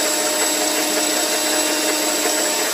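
An electric mixer whirs continuously at close range, loud and even, as it beats sponge cake batter with yeast added.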